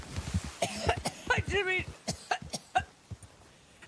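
A person breaks into a coughing fit, a series of sharp, close coughs and throat-clearing bursts tumbling in quick irregular succession, with a few spoken words mixed in.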